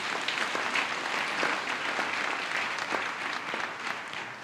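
A church congregation claps together during a sermon on salvation, a steady, full wash of many hands with some sharper individual claps standing out, continuing without pause.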